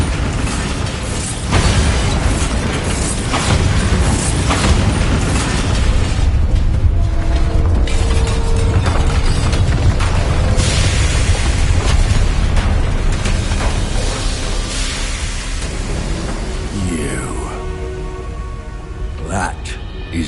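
A Bombarda explosion spell goes off in the Hogwarts Legacy video game amid dense, loud game effects of booms and mechanical clatter, with voices talking over it.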